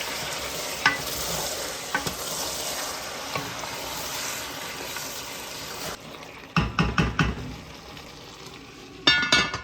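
Chicken fries for a curry in a pan with a continuous crackling sizzle, then a spoon scrapes and stirs it in several quick, loud clattering strokes against the metal.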